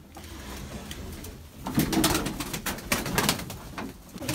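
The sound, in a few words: tumbler pigeons cooing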